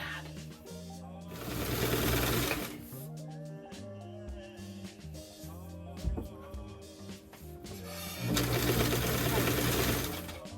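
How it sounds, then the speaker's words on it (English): A sewing machine stitching a simple top whirs in two long, loud bursts near the start and end, with quieter, choppy running and a person talking in between. "Oh wow, that is some of the worst sewing I've ever done."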